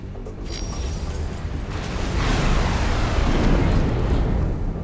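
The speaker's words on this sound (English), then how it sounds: "Explosion imminent." Large explosion in the space game X4 Foundations, a loud, dense rumbling blast that swells and stays heavy for several seconds with no speech over it.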